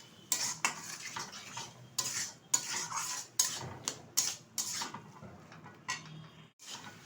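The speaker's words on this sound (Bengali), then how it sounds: "আবার একটু নেড়ে চেড়ে নেব।" Prawn and spice mixture with chopped coriander leaves stirred in a metal pan, repeated sharp spoon scrapes and clatters in uneven bursts over a faint sizzle, close and fairly quiet.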